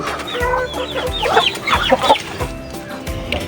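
Several chickens and a duck cluck and chatter close by in short, overlapping bursts, with farmyard noise in the background.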